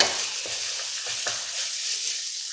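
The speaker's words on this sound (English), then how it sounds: "now we are going to add in our mushrooms" Mushrooms hit a hot pan of chicken cacciatore and sizzle in a steady, bright hiss, with a few soft low knocks from stirring near the start; nobody talks.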